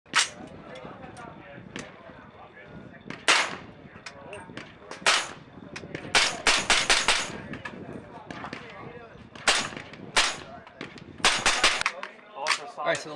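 Suppressed AR-type rifles, a 5.56 and a 300 Blackout, fired outdoors in a rapid string of sharp reports, some in quick doubles and clusters, with brief gaps between volleys.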